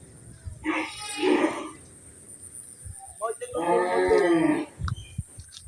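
Cattle at a crowded Qurbani livestock market in Bangladesh moo twice, two long, deep, close calls a couple of seconds apart, over a background of low crowd murmur.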